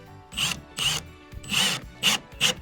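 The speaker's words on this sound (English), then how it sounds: "These old studs are really dense too, so the screw wants to walk on you." A power drill drives a screw into an old, dense wooden stud while drywall is being hung. Five close, loud whirring bursts come in quick succession, each starting and stopping sharply.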